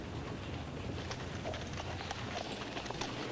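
Horse hooves clip-clop at a steady walking pace on a street in a 1969 western television episode, faint and slightly distant under a noisy background hiss, with no voices.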